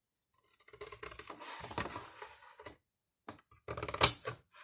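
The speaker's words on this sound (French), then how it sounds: "Et donc ensuite, on découpe. Alors au cutter ou au ciseau," A recycled cardboard box is cut with a cutter or scissors, giving a few scattered close snips and scraping crunches with pauses between them.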